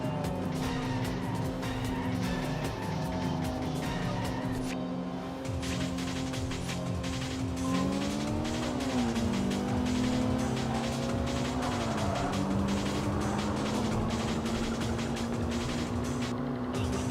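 A Nissan S13 racing in the video game Tokyo Xtreme Racer 3, loud sustained engine whine climbing and dropping through gear changes, with tire squeals and skids layered over a constant roar and no voices.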